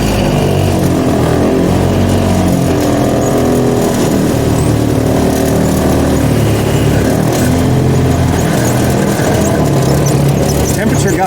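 The Iron Duke engine in a CJ-3B Jeep vibrates and drones continuously on a drive, a rough, loud, close rumble that persists throughout. Wind or road noise sits under it, and voices can be heard faintly.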